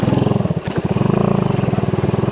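Suzuki Smash motorcycle engine laboring steadily up a hill while carrying a load, a close, loud rhythmic putter with a brief dip in the middle before pulling on.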